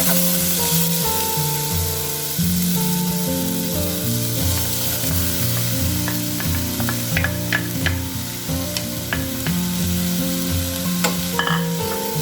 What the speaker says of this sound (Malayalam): ഇനി ഇതേ പാനിൽ തന്നെ നമുക്ക് ഈ ആപ്പിളും കൂടെ ഒന്ന് ജസ്റ്റ് വഴറ്റിയെടുക്കാം